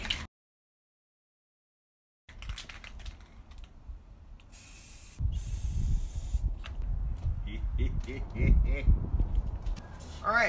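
Spray can laying sparse black tool-shape stencils over a camouflage paint pattern: short and longer hissing bursts after a silent gap, mixed with rattling handling noise, while someone talks over it.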